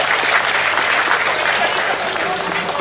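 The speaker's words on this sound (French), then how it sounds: "Merci d'applaudir, sans arbitre" An audience applauds the finalists and referee before a mixed-doubles final at a club tournament in Roscoff, with steady dense clapping throughout and a voice speaking over it.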